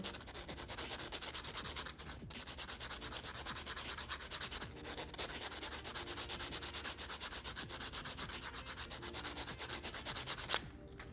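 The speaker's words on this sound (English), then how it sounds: "I'm gonna sand this down right now." Steady, continuous sanding on a small copper jewelry piece, a dense abrasive rubbing that carries on for about eleven seconds with only brief breaks near two and five seconds, close and even in level with no voices.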